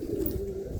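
A racing pigeon returning during a derby race gives a low, soft cooing call that hums along steadily for under a second, close by and alone.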